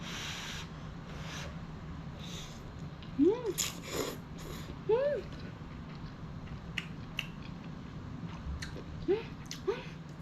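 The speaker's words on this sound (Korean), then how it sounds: "자, 이제 먹어보도록 하겠습니다" Someone eats vongole spaghetti with clams, giving soft, close chewing and mouth sounds with a few brief hummed murmurs over a faint steady background hum.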